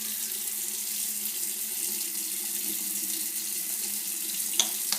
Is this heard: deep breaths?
no